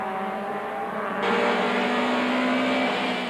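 A touring race car's Audi engine drones steadily, then grows louder and brighter as it accelerates, a continuous close onboard motor roar with no voices, at Kyalami.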